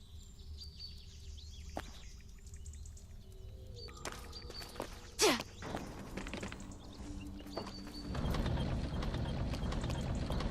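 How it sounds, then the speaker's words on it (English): A lever turns a pulley mechanism in the fantasy game Bless Online, giving ratcheting mechanical clicks and a sharp creak partway through, with bird calls and ambient noise around it and a louder wash of sound toward the end. "Can you turn the lever on that pulley? That should loosen the rope and let down the bodies."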